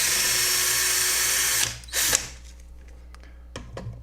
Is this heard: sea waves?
no